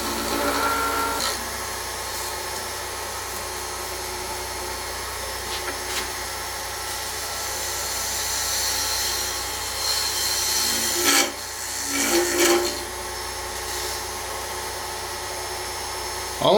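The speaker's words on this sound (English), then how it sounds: "I'm going to take my small skew chisel," Small skew chisel cutting acrylic on a spinning lathe, a continuous close hissing scrape with a steady motor hum beneath and a few louder bursts of cutting near the end.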